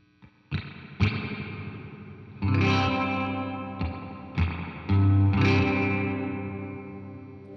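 Electric guitar through a Tall Bird tube spring reverb with the size control turned up: a few picked notes and strummed chords, each followed by a long, roomy reverb tail with strong low-mid resonance, played alone.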